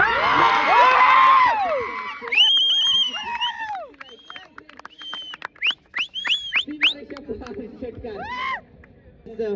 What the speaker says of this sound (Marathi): एकदा टाळ्या तर झाल्याच पाहिजे.